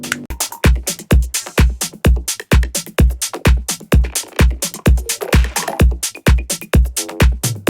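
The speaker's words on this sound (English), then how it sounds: "So the drums we're going to end up with are going to sound a bit like this." A minimal tech house drum loop plays alone, punchy kicks on a steady four-on-the-floor beat with crisp hats and percussion between, loud and evenly repeating for nearly eight seconds.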